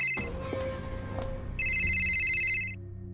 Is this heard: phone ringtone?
yes